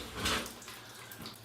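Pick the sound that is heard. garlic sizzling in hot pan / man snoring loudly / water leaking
water leaking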